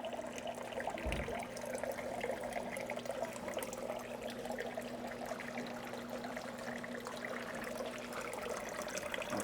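Water runs steadily through the plumbing of a 240-gallon planted aquarium, a continuous rushing flow with a low mechanical hum underneath and a brief thump early on.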